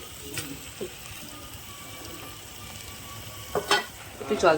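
Sesame seeds frying in a pan with a steady, fairly quiet sizzle, then louder bursts of crackling and bubbling near the end as water hits the hot pan, with no talking.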